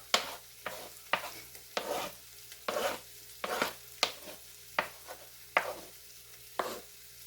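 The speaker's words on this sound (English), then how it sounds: "this is 1 small onion, and this is about 5 jalapenos" A small onion and about five sliced jalapenos are tipped into a pan and stirred while charro beans with chorizo are being made. A series of close, sharp scrapes and clacks of utensil on pan comes at a steady rhythm over a faint low sizzle, with no talking.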